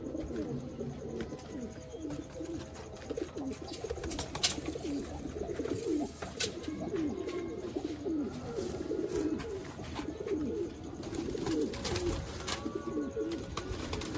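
A Sialkoti pigeon coos near at hand, repeated soft rolling coos in a steady rhythm, with faint clicks and shuffling in the loft around it and no voices.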